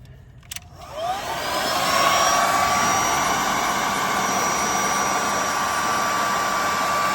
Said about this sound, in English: Now we're using a hair dryer.